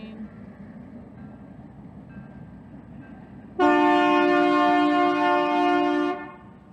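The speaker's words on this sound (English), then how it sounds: "here comes the train" A passing train sounds a loud, sustained horn blast, close by, for about two and a half seconds in Arizona, rising abruptly out of steady low rumbling background noise.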